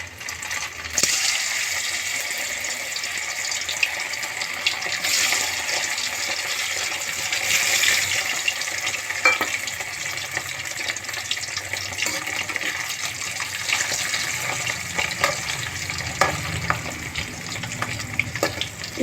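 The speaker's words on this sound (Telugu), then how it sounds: "పొటాటోలోకి ఆయిల్ తీసుకున్నానండి డీప్ ఫ్రై చేయడానికి" Potato pieces deep fry in heated oil, a steady bubbling sizzle with crackles and occasional clinks of a utensil, close and continuous.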